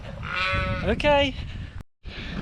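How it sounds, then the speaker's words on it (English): Donkeys in a field bray and bleat in a rising, wavering call, close and fairly loud, over outdoor background noise, with a brief dropout near the end. "Some new additions to the field. Donkeys."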